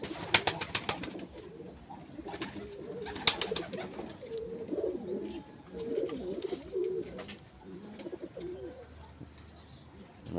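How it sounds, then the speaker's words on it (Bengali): A visiting pigeon coos in repeated low, throaty phrases at close range, with a few sharp clicks and rustles near the start. A faint voice may be present. "এই কবুতরটা অবশ্য আমাদের না, বাইরের থেকে আসছে, ক্ষুধা লাগছে।"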